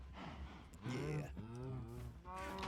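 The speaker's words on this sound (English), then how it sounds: "That's why there's cows standing up so tall out here." Several Minecraft cows low in overlapping, breathy moos, two or three calls close by with short pauses between.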